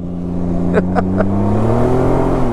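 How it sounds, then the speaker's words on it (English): A Ryker three-wheeler on a gravelled road revs loudly in a burnout, its engine droning and rising close by with brief sharper bursts early on. "What kid doesn't like a burnout, right?"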